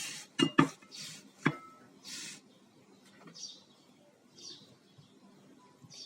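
A knife cuts through a homemade summer dessert with jelly on a hard surface, giving a few sharp clicks and taps early on, followed by softer scraping and quiet handling sounds.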